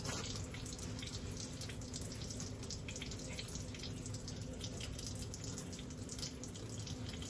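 A tap runs steadily into a sink during surgical handwashing, a continuous, even hiss of flowing water that stays low and unchanging throughout, with no voices.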